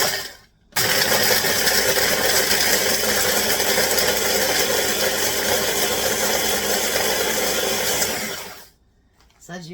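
A small kitchen motor grinds bread into fine crumbs, starting suddenly and holding a loud, steady whirring drone for about eight seconds before cutting off.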